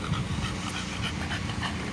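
A dog panting close by, rapid rhythmic breaths continuing without pause over a short stretch, with no talk.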